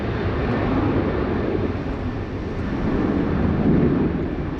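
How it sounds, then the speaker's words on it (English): A Virgin Australia airliner on the Sydney Airport runway roars steadily as it begins its takeoff roll for Melbourne, a loud, continuous broadband jet engine rush with faint wind buffeting and no voices. "Velocity 850 there, commencing takeoff roll."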